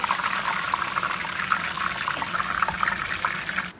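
Curry leaves sizzling in hot oil while making spicy boondi, a steady bright crackle and hiss of frying that stays even and close throughout, with small pops scattered across it.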